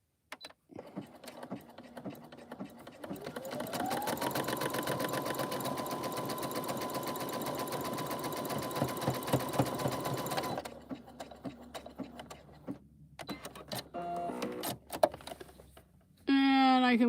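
A sewing machine stitches fabric in a steady, close, rapid whir lasting several seconds, with a voice talking over it before and after the run and small handling clicks at the end.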